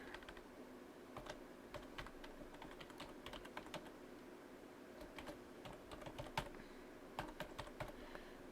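Quiet, close typing on a computer keyboard while entering an email address, with a sparse, irregular run of soft key taps over a faint background hiss, with no talking.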